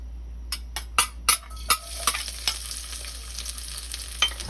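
Garlic sautéing in two tablespoons of hot oil in a frying pan, with a burst of sharp spatula scrapes and clicks early on over a low, steady sizzle that carries on more quietly.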